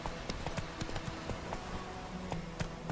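Roach, a horse in The Witcher 3 video game, clip-clops along in a quick, steady rhythm of hoofbeats, faint and close against a muffled background.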